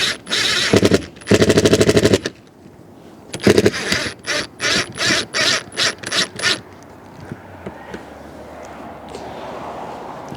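Battery impact driver or drill tightening a bolt on a solar panel tilt mount atop a curved fifth wheel RV roof, loud ratcheting bursts: a long stuttering run, then several short pulses, before quieter ambient sound.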